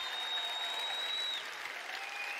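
An audience at the Bethesda E3 2018 conference cheers and applauds in a continuous wash of clapping that fills the whole stretch, with a steady whistle-like tone running above it.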